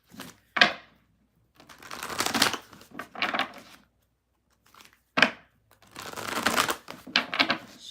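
Tarot cards being shuffled by hand in bursts of crisp riffling and sharp slaps, close up, separated by short silent gaps.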